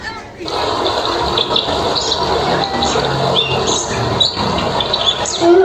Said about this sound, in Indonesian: Pada saat itu, aliran sungai sedang deras.